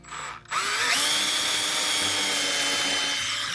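A power drill whirs steadily into material after a brief start-up blip, loud and close, running continuously with a faint grinding edge.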